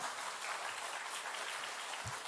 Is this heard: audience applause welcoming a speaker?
yes